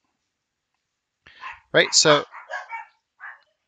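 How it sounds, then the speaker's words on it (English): Dogs bark a few times in the background, short sharp yips spread over a couple of seconds, mixed with a brief bit of nearby speech. "sorry about the dogs."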